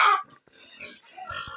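Farm pigs grunt in a few short, rough bursts close by, a brief snort-like sound separated by quiet gaps.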